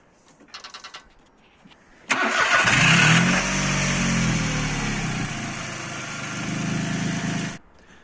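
A 1.1-litre three-cylinder Mitsubishi Colt with freshly changed spark plugs cranks briefly, catches and fires into a loud, steady idle that settles and runs for several seconds before cutting off abruptly.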